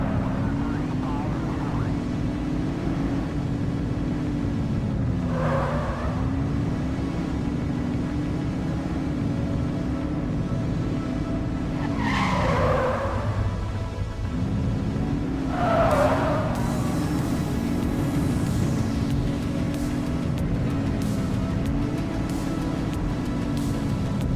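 A car engine hums steadily in the Precinct police video game, its pitch rising and dipping as the vehicle drives, with a few brief higher whooshes and squeals layered over the continuous drone.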